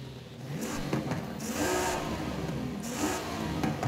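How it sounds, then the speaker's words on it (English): Nissan Z fitted with a sports exhaust in the racing game Forza Horizon 5, revving through a couple of throttle blips over a steady engine drone, moderately loud and with no talking. "Much better with the sports exhaust."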